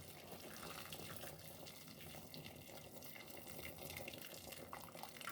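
A steady stream of water pours and splashes into a cooking pot for pork nilaga, continuous and fairly close, with no voices.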